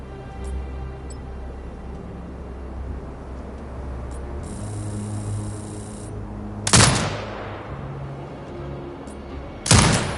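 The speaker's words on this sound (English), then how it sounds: "Exit binocular mode and command the turret to fire." An automated turret fires in the video game Sniper Ghost Warrior Contracts 2. Two sharp, loud bursts of gunfire come several seconds apart over a low ambient hum and faint ticking.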